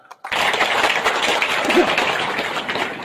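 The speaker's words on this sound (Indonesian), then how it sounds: "Tepuk tangan dulu." An audience at an Indonesian religious lecture bursting into applause, a dense wash of clapping that starts abruptly after a brief silence and holds steady, fairly loud and near.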